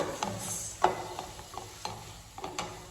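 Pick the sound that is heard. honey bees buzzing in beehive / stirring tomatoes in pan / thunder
stirring tomatoes in pan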